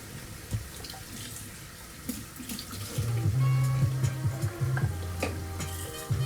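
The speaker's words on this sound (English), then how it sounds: "Because I'm sure y'all don't want to listen to the water running." Water runs from a kitchen tap into a sink during a brunch cooking session, a steady splashing stream that grows louder and fuller partway through, with clinks and kitchen clatter around it.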